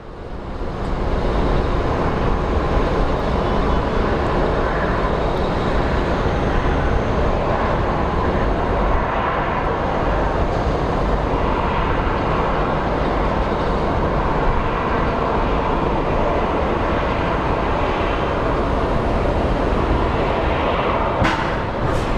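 Loud, steady engine roar holds throughout, a broad rumbling drone like a jet airplane accelerating for takeoff at Phoenix Sky Harbor International Airport, heard from close by with no talk.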